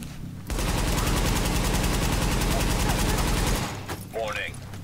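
A light machine gun in the shooter game The Division fires one long, continuous burst of rapid shots lasting about three seconds and sounding loud and close, followed by quieter game sounds.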